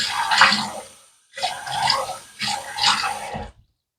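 Water splashes from hands onto a face before shaving in three short wet bursts separated by brief silences, close and moderately loud.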